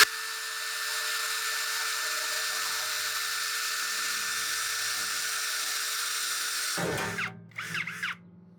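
A Hanabi LJ2022 drill running at speed 1 in drilling mode with a 4 mm bit gives a steady, loud, high whine for about seven seconds, then cuts off and two short spins follow.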